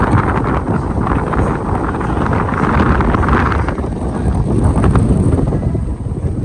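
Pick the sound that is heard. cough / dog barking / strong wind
strong wind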